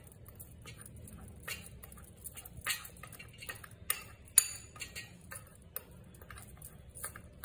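A spoon mixing gram flour and charcoal powder in a bowl, giving faint, close scraping and clinking ticks in an irregular rhythm.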